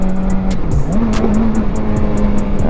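Ford Mustang engine revving on the street, a loud close growl whose pitch rises and falls through several throttle blips, with a rapid regular ticking sound over it throughout.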